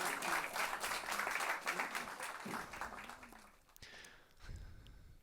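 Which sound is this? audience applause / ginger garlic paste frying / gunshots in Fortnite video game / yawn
audience applause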